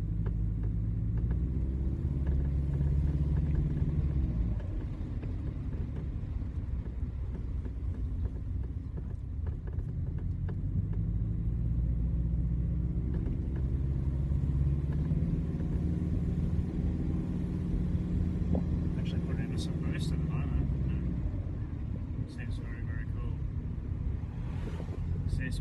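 A Subaru with a turbocharged EA82T engine running Megasquirt MS3x drives on a residential street, its low engine rumble and drone rising and falling steadily with wind noise, heard from inside the car.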